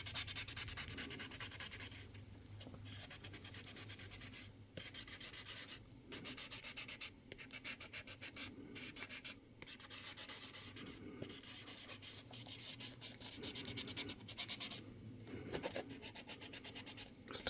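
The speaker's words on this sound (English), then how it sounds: "I'll call it a sanding disc on this little handle" A small handheld sanding disc rubbed around an edge, producing faint, repeated scratchy strokes with brief pauses between passes, close up and quiet, no talking.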